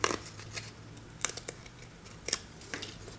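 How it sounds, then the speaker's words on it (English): Paper being torn in short, quick rips along folds to make postage-stamp-style edges for junk journal mail art, several brief crisp tears spaced across a quiet room. "We fold here and here, and do the little rip, and do this side,"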